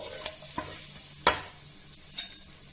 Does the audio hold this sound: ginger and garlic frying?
yes